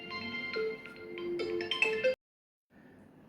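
A phone ringtone plays a bright melodic tune for about two seconds, then stops abruptly; after a brief silence, soft background noise returns with no talking.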